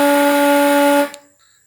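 A Land Roots expedition vehicle's horn, triggered by a relay remote control, blares in one loud, steady tone for about a second, then cuts off abruptly.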